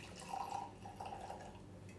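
Gin poured from a bottle into a glass for a gin and tonic, a short soft trickling pour with faint gurgles, quiet and close with no talk.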